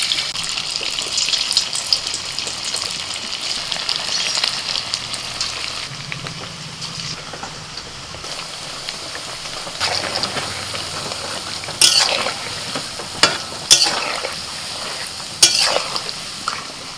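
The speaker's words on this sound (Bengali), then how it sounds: "এবার পকোড়াগুলো ছেড়ে দিচ্ছি।" Chicken pakoras fry in hot oil, a continuous bubbling sizzle that rises into sharper crackling bursts and spattering pops toward the end, with soft stirring scrapes now and then and no voices.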